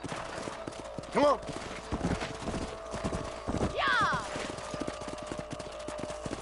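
Horses clip-clop at a brisk gallop in the Red Dead Redemption video game as riders head out to patrol a ranch property, with a brief whinny, short shouted voices over the hoofbeats and faint gunfire-like pops.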